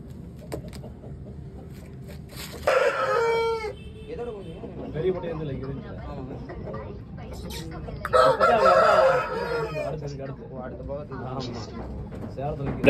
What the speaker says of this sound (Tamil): பட்டா, குஞ்சுக, பொட்டை, சேவல் எல்லாமே இருக்கு.